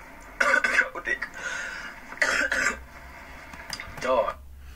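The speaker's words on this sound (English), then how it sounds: "You know why you coughing?" A person coughs in several bursts out on the street, loud and close, with throat-clearing sounds mixed in.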